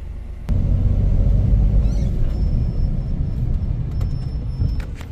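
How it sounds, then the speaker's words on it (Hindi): A Maruti Suzuki Wagon R rolls down off a speed breaker and its engine cuts out, leaving a steady low rumble of the vehicle and road noise with no clear revving. "अभी ब्रेकर से उतर रही है गाड़ी, इतने में बंद हो गए"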